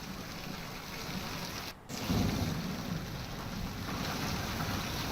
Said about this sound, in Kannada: ನೋಡಿ, ಮಳೆ ಧೋ ಅಂತ ಸುರಿತಾ ಇದೆ